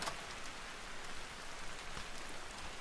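Steady rain falls in the game Vintage Story, an even, continuous hiss of drops across the whole stretch with no voices, fairly soft and close around.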